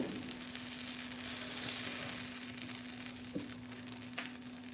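Coconut dosa batter, a ladleful on an unoiled frying pan, sizzles and crackles steadily, a soft continuous frying hiss close by with a faint hum underneath.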